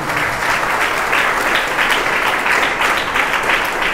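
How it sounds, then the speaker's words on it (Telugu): Loud, sustained applause from a congregation at a special prayer meeting, steady dense clapping filling the whole stretch with no speech over it. "చప్పట్లు కొడదాం గట్టిగా"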